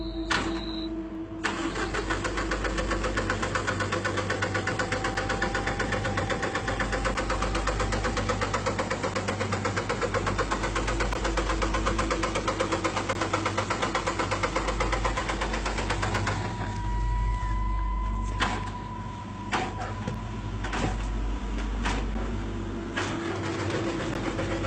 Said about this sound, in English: In the video we can clearly hear someone or something trying to turn the engine on